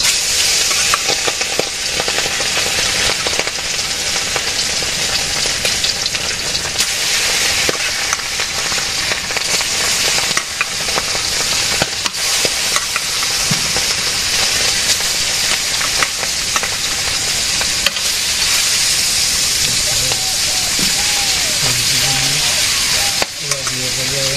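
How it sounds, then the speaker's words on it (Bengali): Fish frying in a pan sizzles loudly and continuously, close up, with occasional stirring scrapes and some faint background noises, and no clear talk over the steady crackle. "এখন মাছ ভাজি করবো"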